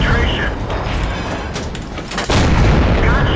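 A tank gun fires in a World of Tanks-style battle from a T49 tank destroyer, a loud booming blast followed by mechanical rumble, with game engine noise and a voice talking over it.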